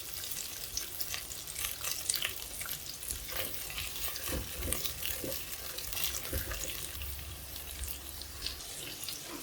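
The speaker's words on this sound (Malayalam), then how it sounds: "ഒരു കണ്ണാടി പരുവത്തിലാവുന്ന വരെ ഒന്ന് വഴറ്റി എടുക്കാം" Onions sautéing in a pan until translucent, a continuous crackling sizzle with frequent spatula stirs and scrapes, close and moderately quiet, with no speech.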